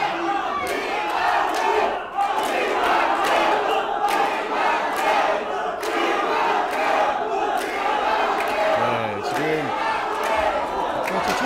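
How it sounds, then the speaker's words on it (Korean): Arena crowd at a WBA Asia lightweight title defense boxing match in the ninth round, a dense roar of cheering and chanting fighters' names that stays loud and continuous throughout. "객 속에서 선수들의 이름을 환호하면서 열띤 응원전이 펼쳐지고 있습니다"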